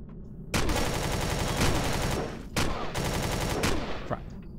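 Enemy gunfire in the space survival game Empyrion Galactic Survival: loud, dense rapid bursts of shots fill most of the clip and are split by two short gaps, with no voices.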